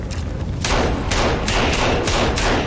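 Pistol shots in Sons Of The Forest ring out close and loud, about five sharp reports in an uneven rhythm over a constant noisy in-game background.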